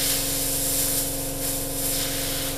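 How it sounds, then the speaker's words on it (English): Steady hiss of an airbrush spraying paint onto a Tamiya 1/35 M1A1 Abrams model, with an air compressor droning continuously underneath, close and constant throughout. "compressor's been up, but I'm going to turn it on again, so a little bit of noise"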